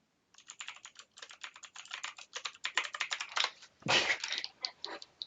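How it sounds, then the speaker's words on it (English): Rapid bursts of computer keyboard typing, close and clear, come in quick irregular clusters of keystrokes with brief pauses between them, sounding alone without any talk. "Do you hear that typing? I hear the typing."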